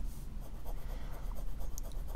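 An Omas Paragon fountain pen with a wet-writing nib moving across paper, a soft continuous scratchy rustle of short strokes at close range, with no talk.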